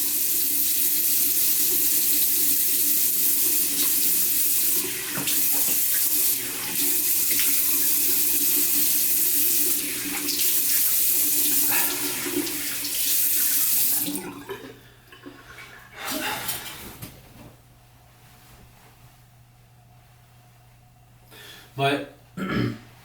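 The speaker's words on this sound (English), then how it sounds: "So upon rinsing on my face with cool water" Cool water runs steadily from a bathroom tap while a man rinses his face after shaving, a loud continuous broadband rush that stops abruptly partway through, leaving a quieter room with a few splashes and brief sounds.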